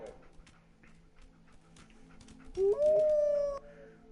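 Dogmeat, the dog companion in Fallout 4, lets out a single rising howl near the end, loud and close, after a stretch of quiet game ambience with small clicks.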